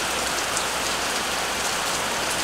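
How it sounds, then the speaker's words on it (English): Steady rain falls outdoors in a dense, even hiss of drops striking surfaces, constant and fairly loud throughout with no voices. "it's raining."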